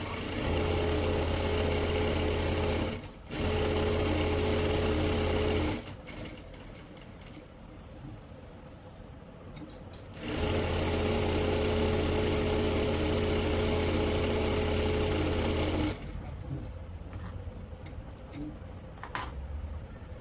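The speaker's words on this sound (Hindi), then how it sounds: "इस कुर्ती में हम सिलाई लगा रहे हैं।" A sewing machine runs in long loud bursts of rapid mechanical stitching on a kurti, stopping briefly between runs, with quieter fabric handling in the pauses.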